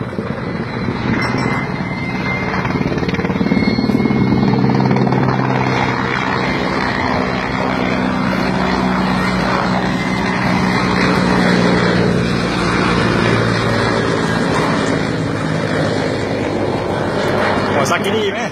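Military aircraft fly overhead during a joint Lao and Russian training flight at a Lao airfield, a loud, sustained engine drone that swells and fades while people talk excitedly nearby.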